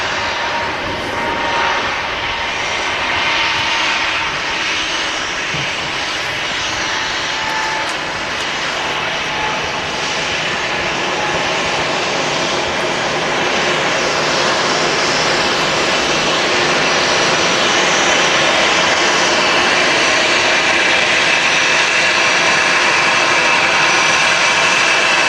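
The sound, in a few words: EasyJet airliner jet engines on the runway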